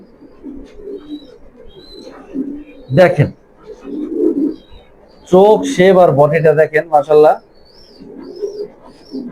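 Healthy pigeons, kept in breeding pairs with their young, coo in low, rolling bursts between stretches of close, clear talk from a man nearby.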